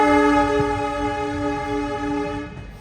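The Tamil Nadu Express bound for Chennai sounds a loud, sustained horn, a rich multi-tone blare lasting over two seconds before it cuts off and leaves a rumble of the train.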